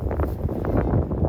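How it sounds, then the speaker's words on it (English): Gusty wind buffeting a microphone at a drone flying field, a rough low rumble that swells and falls in uneven puffs throughout. "It is a little windy though."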